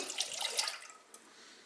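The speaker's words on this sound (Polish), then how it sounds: "Do garnka wlewam jedną szklankę" A glass of milk pours in a short splashing stream into a pot, then tapers off, with a small clink near the end.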